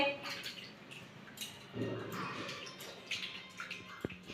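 Pieces of rohu fish are rinsed in water, giving soft splashing and sloshing with a couple of light knocks, close and fairly quiet.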